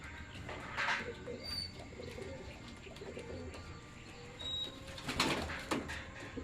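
Pigeons in a club training loft in San Rafael, Bulacan coo softly and chirp amid faint outdoor ambience, with a brief flutter of wings and a louder burst of calls near the end, nobody talking.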